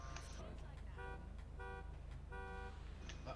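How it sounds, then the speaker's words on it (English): A car horn toots three short times at even spacing, moderately loud over a steady idling engine hum. "And then honk the horn for me 3 times."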